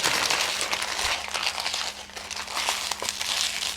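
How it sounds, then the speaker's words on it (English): A titanium unboxing knife slicing through cardboard packaging and plastic, a steady close crinkling and tearing that runs without pause, loud and continuous with no talk. "we're going to use my Amazon titanium unboxing knife to cut through this"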